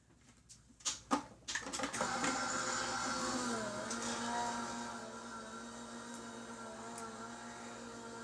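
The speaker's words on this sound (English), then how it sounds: "let's run it through the die cutting machine." A die cutting machine runs a stenciled paper craft through its rollers, a steady mechanical whirring hum with a few sharp clunks at the start, close and moderately quiet.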